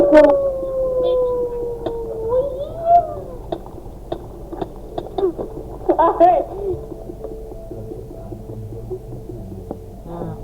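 Wolves howl in a survival video game, long rising and falling howls layered in the first few seconds over a low hum, followed by scattered clicks and game sounds.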